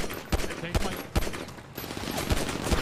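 Rapid AK rifle gunfire in the GTA RP video game, several loud sharp shot bursts spaced through the clip over a busy game background, with a faint voice.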